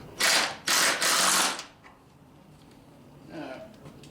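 Ratchet wrench tightening a bolt on a 1985 Chevy K10 truck, three quick rasping bursts of clicking pawl up close, followed by quiet and a faint scrape.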